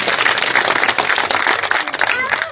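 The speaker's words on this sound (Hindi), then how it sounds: "एक बार मास्टर जी के लिए जोरदार तालियां" A village crowd at a Jogi community gathering in Kheri Gurjar claps loudly and densely, a thick, continuous burst of hand-clapping held for a couple of seconds with no talk.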